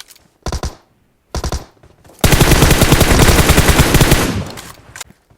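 Gunfire in PUBG Mobile, Metro Royale mode: two short bursts of rapid shots, then a long, loud, sustained automatic volley lasting about two seconds before fading out.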